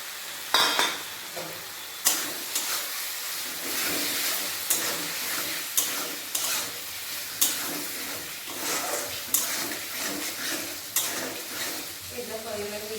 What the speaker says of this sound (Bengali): আলুটা দিয়ে দেবো মশলার মধ্যে